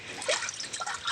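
Spring water at a hillside source trickles and drips steadily and close, with a bright, continuous splashing flow.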